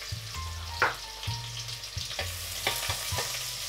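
Onion, garlic and cumin frying in hot oil for a quick vegan okra dish, heard as a quiet, close sizzle with a few sharp crackles and light scraping taps of stirring, over a low steady hum.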